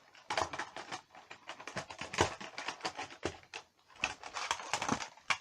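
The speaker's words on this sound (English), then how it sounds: "I'm just going to put all the tapes back." ZX Spectrum cassette tapes are put back into a cardboard box, making a quick run of light plastic clacks and clatters close by.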